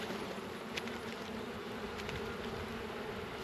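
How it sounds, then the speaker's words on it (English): Honeybees buzz steadily and fairly loud as they are shaken off a frame from a long Langstroth hive, a dense continuous drone with no talking. "I want to take these with me, but I don't want to take the bees, so I'm just going to shake them off."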